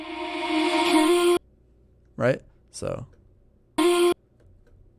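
A washy, swelling reverb tail builds and cuts off abruptly, followed by a couple of short voiced bursts and one more brief swell, with gaps of silence between.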